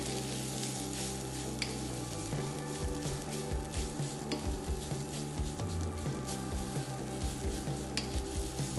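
Egg fried rice with white pepper being stir-fried in a wok, loud continuous sizzling with repeated clattering scrapes and tosses of the spatula against the pan, no voices.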